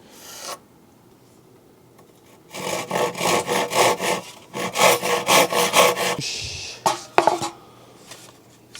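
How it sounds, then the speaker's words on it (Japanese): Hand saw rough-cutting cafe wood boards outdoors, two runs of quick rhythmic rasping strokes, close and fairly loud, ending with a few clattering knocks of wood, no talk. "大体のカットを中ですると大変なんで外でザクッとカットしておきます。"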